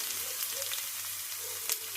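Crushed garlic sizzles in hot tempering oil along with mustard seeds and cumin, for a pickle of ripe red chillies and lemon. The frying is a soft, fairly quiet sizzle with a few small pops and crackles.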